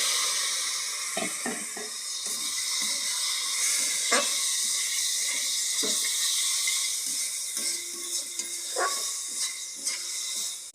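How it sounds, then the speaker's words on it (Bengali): A spice filling, seasoned with amchur powder and Maggi masala, fries in a pan with a soft, continuous hiss and sizzle. Scattered spatula clicks and scrapes from stirring sit over it, moderately quiet, with no talking. "এবার এটাকে ভালো করে ভাজা নিতে হবে বন্ধুরা।"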